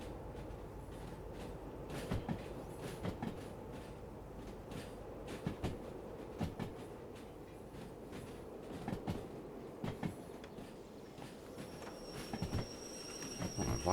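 Quiet rumbling of a train rolling along in the Derail Valley simulator, a steady low drone with scattered clunks and knocks over nearly fourteen seconds, no talking.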